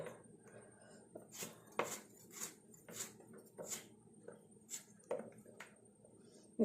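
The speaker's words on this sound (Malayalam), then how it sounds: "കീറിയിട്ട് ഇങ്ങനെ വട്ടം വട്ടം അരിഞ്ഞാലും മതി പക്ഷേ ഇതാ എളുപ്പം" A knife cuts a lemon on a board for an Onam lemon pickle, about a dozen sharp, close taps coming in an uneven rhythm over a faint steady background hum, with no talk.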